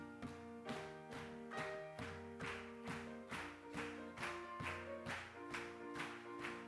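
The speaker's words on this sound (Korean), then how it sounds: "우리 힘차게 박수하시면서" A church congregation claps in a steady rhythmic beat along with a hymn sung during an early morning service, the evenly spaced claps sitting under sustained organ and voices.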